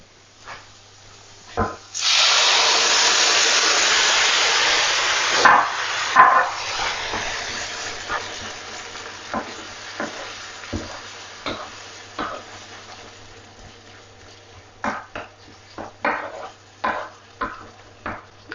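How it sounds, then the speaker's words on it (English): Tomatoes dropped into a pan of frying eggplant set off a loud burst of sizzling that gradually settles, followed by a run of sharp stirring clicks and scrapes against the pan. "So at this stage, I'm going to add tomatoes."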